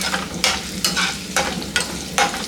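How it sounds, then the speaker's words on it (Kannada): Asafoetida frying in oil for coconut rice, a steady close sizzle broken by about five scraping stirs of a spoon in the pan, with no talking. "ಇದಕ್ಕೆ 1/4 ಸ್ಪೂನಷ್ಟು ಇಂಗು, ಚೆನ್ನಾಗಿ ಫ್ರೈ ಆಗಬೇಕು"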